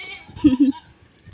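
Young goats bleating while they fight, two short loud bleats close together near the middle, with quiet farmyard background around them.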